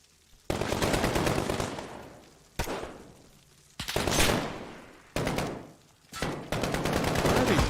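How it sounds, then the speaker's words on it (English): Rapid automatic gunfire from a video game, loud bursts of machine-gun fire that start and stop in several sustained volleys with brief pauses between them. "Where are they shooting it from?"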